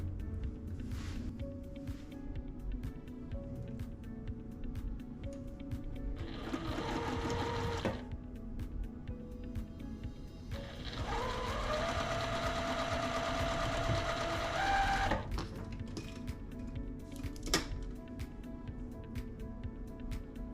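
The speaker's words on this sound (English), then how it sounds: "we will sew this section to this S piece" A sewing machine stitches quilt pieces together in two bursts: a short run, then a longer steady whirring stretch. Quieter handling sounds fill the gaps between them.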